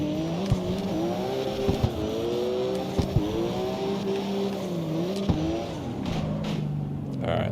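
Turbocharged race car in CarX Street on PC revving hard, engine pitch climbing and dropping through shifts with brief tire squeals, loud and up close, a voice talking over it.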